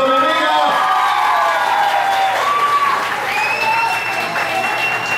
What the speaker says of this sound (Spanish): Y aplausos para mi amiga.